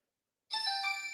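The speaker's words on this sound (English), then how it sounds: "I don't change my ringtone when I buy a phone" A mobile phone ringtone, the stock tone that came with the phone, starts abruptly and plays on steadily as a bright, tonal chiming melody, fairly close and clear with no talking.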